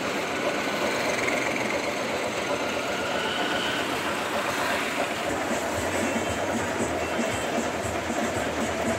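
Motorcycle engine idling at low revs during an electrical check for a current fault caused by a loose contact, a steady, close, rapid knocking putter that holds constant throughout.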